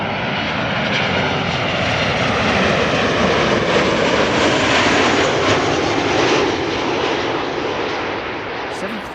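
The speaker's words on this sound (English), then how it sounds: "Next up, KLM flight 1512, arriving from Barcelona." A KLM Boeing 737 jet arriving at Amsterdam Schiphol Airport passes with a loud sustained engine roar that swells and then slowly fades, heard from outside, with a voice talking faintly underneath.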